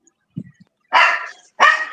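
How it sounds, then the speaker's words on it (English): A dog gives a soft low grumble, then two loud, close barks in quick succession. "Crypto, bad dog"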